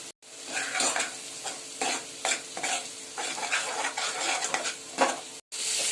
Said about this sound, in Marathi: आता हे मसाले पण टाकून द्यायचे आहे आणि पुन्हा मिक्स करून घ्यायचे